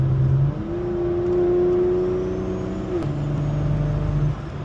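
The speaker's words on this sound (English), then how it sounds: "That wastegate is so damn loud, though. That wastegate like overkills the turbo a little bit" Turbocharged car engine fitted with a 6870 turbo and a loud wastegate revs up and holds, a sharp gasp breaking in midway before the steady drone resumes and falls away, close and loud.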